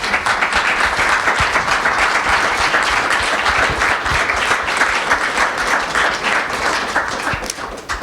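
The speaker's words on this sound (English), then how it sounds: "Can we get a round of applause for our panel?" Audience at a round-table discussion giving the panel a round of applause, steady close clapping that continues without pause and thins slightly at the end.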